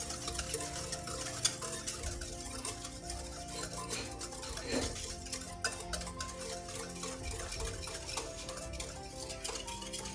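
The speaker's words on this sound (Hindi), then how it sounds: "इस एक विस्क की मदद से हम इसको मिक्स करते हैं" Oil and sugar for a simple microwave cake being whisked in a bowl, a quiet, continuous rapid clicking and scraping of the whisk with a brief louder knock, close up and without talking.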